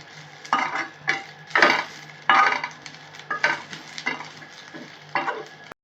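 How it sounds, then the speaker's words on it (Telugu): Drumstick leaves frying in oil in a kadai while being stirred, a steady soft sizzle under repeated bursts of spatula scraping and stirring at close range, with no talking. "బాగా మెత్తబడే వరకు బాగా ఫ్రై చేసుకోవాలి."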